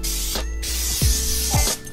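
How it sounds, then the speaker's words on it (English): Cooking spray hisses onto a baking pan for monkey bread in a home kitchen, a steady broadband spray lasting most of the moment with a brief pause, close and fairly loud, no talking. "I am going to start spraying my pan."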